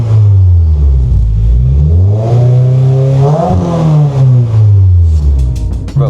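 A loud Subaru WRX engine with a throaty, modified exhaust revs up and down repeatedly, rising to a peak mid-clip before settling back to a rumbling idle.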